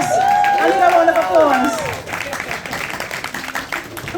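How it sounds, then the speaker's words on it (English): An audience at a Nottingham poetry event breaks into brief applause and clapping with some crowd noise, loud at first then thinning out over a few seconds. "I need a round of"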